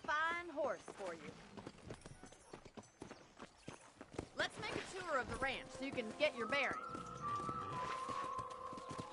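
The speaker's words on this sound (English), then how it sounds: "I picked out a fine horse for you." Horse hooves clip-clopping in the video game Red Dead Redemption, a steady rhythmic trot running under a voice, other voices and game music.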